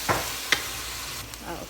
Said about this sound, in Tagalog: Utan yung sibuyas.